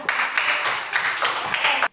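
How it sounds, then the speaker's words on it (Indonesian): A school class claps for group 3 in a classroom, a loud, close burst of many hands pulsing in uneven waves for about two seconds before stopping abruptly. "Kita berikan tepuk tangan untuk kelompok 3."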